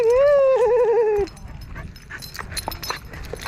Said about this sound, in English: Good doggies.